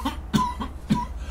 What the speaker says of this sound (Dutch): Hij begon vreselijk te hoesten en zweetpareltjes vormden zich op zijn gezicht.